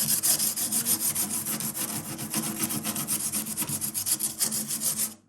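A small P40 sander grinds against fiberglass repair work on a Kawasaki 300SX jet ski, a close, continuous rasping with rapid fluttering strokes and no talk.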